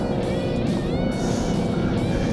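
A Ford Mustang 2.3 engine roars steadily under load with its synthetic exhaust note, a loud, continuous rising drone heard from inside the car.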